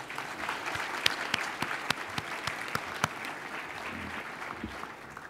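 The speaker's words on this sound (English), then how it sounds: "Can we give them another round of applause?" An audience at a State of the City address applauds the city council and mayor, a sustained crowd clapping at moderate loudness with a few sharper individual claps standing out.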